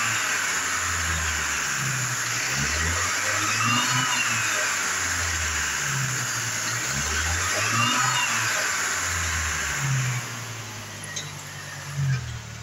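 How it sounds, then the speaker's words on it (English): A 2005 Chevrolet Colorado pickup truck engine runs steadily at idle, with a few revs rising and falling and a brief dip near the end. "engine run video"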